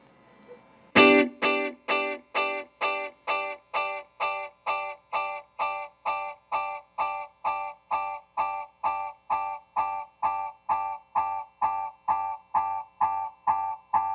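Electric guitar through a delay with a filter sounds a sharp note, then a long train of evenly spaced repeats, around twenty-five echoes pulsing steadily and barely fading as they build toward feedback.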